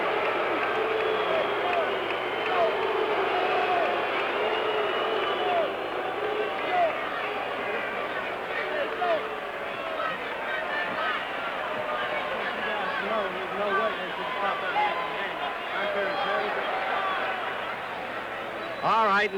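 A large arena crowd at a George Foreman boxing exhibition in Toronto roars steadily for Charlie Polite, a continuous distant wash of cheering with a commentator talking over it.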